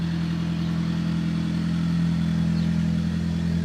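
A 1990 BMW E30 3 Series four-door sedan idles nearby, its engine giving a steady, even low hum with no revving across the whole stretch.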